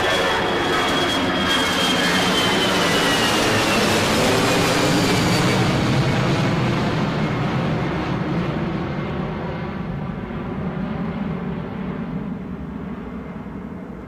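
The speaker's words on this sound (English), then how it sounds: "let us enjoy the noise from this EasyJet A320" An EasyJet Airbus A320 fills the air with a broad, steady engine roar at Newcastle airport, loud throughout and slowly easing off as it passes.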